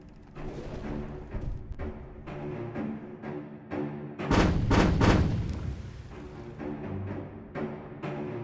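Heavy naval gunfire from the battleship Yamato in a video game, a loud burst of several booming cannon shots midway through, set against a steady rumbling game soundscape.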